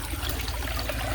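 A small trickle of irrigation water runs steadily into a maize field, a continuous low wash with no break and nobody speaking.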